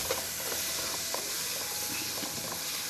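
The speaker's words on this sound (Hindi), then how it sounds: "तो प्याज और लहसुन को हल्का सा फ्राई करने के बाद" Onion and garlic frying lightly in a pan give a steady, soft sizzling hiss with faint crackles, heard close and alone.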